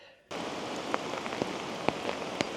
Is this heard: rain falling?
yes